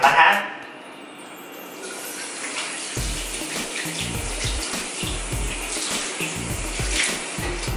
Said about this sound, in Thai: เดี๋ยวเรามาล้างหน้าพร้อมๆกันนะคะ